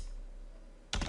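A computer keyboard is tapped briefly at the very end, a quick close cluster of keystrokes after a near-silent room hum.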